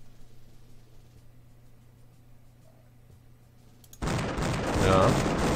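Cannon fire in an Imperialismus strategy game battle: after a quiet stretch, a sudden loud burst of overlapping booming shots and rumble bursts in and continues to the end.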